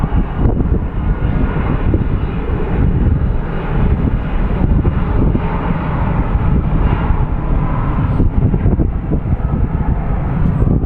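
A jet airliner roars loudly and steadily at Phoenix Sky Harbor International Airport, a broad continuous engine rumble with some wind buffeting and no talk.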